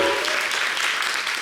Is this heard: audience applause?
yes